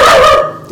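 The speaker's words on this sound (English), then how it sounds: "Doggies. No barking." A dog gives a loud, close, drawn-out bark that trails off into a brief whine.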